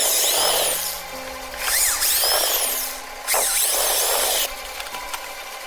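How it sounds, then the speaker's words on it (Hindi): Power drill boring holes into a DIY Mars rover chassis base, a close, whirring motor that comes in several separate bursts, each rising in pitch and stopping, with short pauses between them. "ड्रिल मशीन से इसमें छेद करते हैं एंड इस बेस को लगाएंगे सही से।"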